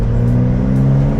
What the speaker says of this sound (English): run the little blip here